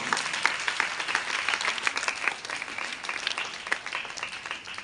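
At a Teachers' Day celebration, a class audience claps for the teachers in a sustained, even burst of crowded applause that holds steady throughout without dying down.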